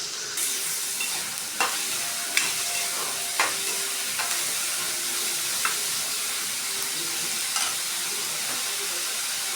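Four large onions sautéing in a pan, a dense, even sizzle with occasional sharp spatula scrapes and taps at irregular intervals, close up and without any talking.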